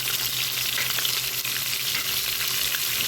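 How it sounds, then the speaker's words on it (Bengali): Onion paste with ginger-garlic paste and salt frying in hot oil, a loud continuous sizzle with light stirring, no talk. "এখন পেঁয়াজটা একটু ভেজে নেব তেলের মধ্যে"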